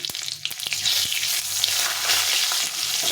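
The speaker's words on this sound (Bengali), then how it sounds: "একটা শুকনো লঙ্কা, একটা তেজপাতা আর জিরে, এটা ফোড়ন দিলাম" Whole spices, a dry red chilli, a bay leaf and cumin seeds, crackle and sizzle steadily in hot oil, a dense close frying hiss with a few sharp pops and faint stirring, no voices.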